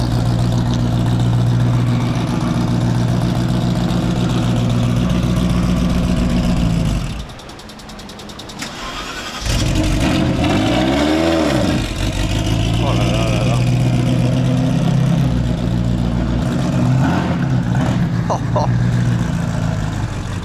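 A Ferrari F40 LM with its V12 engine drives through the streets of Monaco, a loud, steady engine roar close by with a brief dip and rising rev swell midway, while excited spectators talk and exclaim over it.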